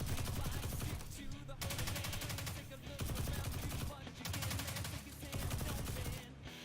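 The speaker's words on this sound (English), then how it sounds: "switch to your SMG, pop off a few rounds." Rapid submachine gun bursts ring out in a video game, with dense automatic fire repeating in several sustained volleys separated by brief pauses, loud and close throughout.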